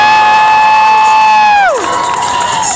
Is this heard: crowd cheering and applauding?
yes